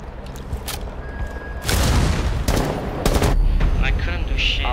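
Rainbow Six Siege gunfire: loud, close automatic bursts arriving in several sharp volleys over a steady background of in-game ambience, with a short gap between bursts and no talking.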